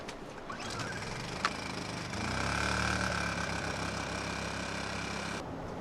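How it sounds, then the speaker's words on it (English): A generator engine runs steadily at a recording session, a constant close mechanical drone with a brief rise in its low rumble midway and a faint click near the start. "Our wonderful generator."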